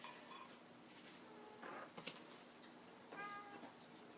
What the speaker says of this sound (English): And right when I said that, Fluffhead starts meowing.